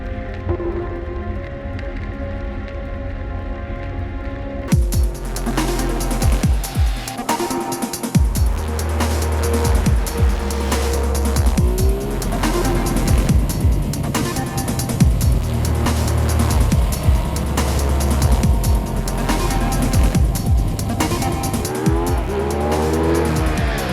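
A 2015 Ducati Diavel motorcycle ridden hard on a mountain road, its engine roaring loud and close throughout with rising and falling revs through gear changes, after a quieter idling opening.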